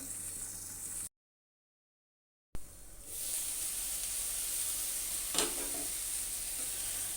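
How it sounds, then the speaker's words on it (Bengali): Ghatkol (arum) cooks in a covered pan, giving off a soft, even sizzle and steamy hiss. A short silent break comes partway through, and a brief sharp knock sounds later over the steady bubbling. "এবার আমি এটা বিশ মিনিটের মতো চাপা দিয়ে রান্না করে নেবো"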